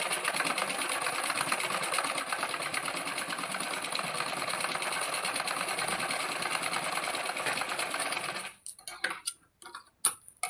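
Sewing machine stitching double seams on blouse tucks, a fast steady whirring rattle running loud for about eight seconds, then stopping into a few short clicks and knocks.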